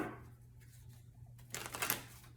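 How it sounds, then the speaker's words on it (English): Oracle cards are shuffled off camera: a quiet stretch with a low steady hum, then a brief crisp flurry of riffling card snaps near the end, with no voices. "you couldn't see me shuffling, that was off camera"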